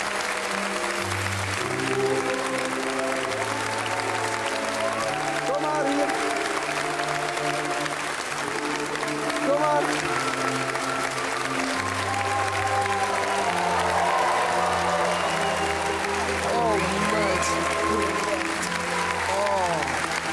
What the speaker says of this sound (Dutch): Geef haar een groot applaus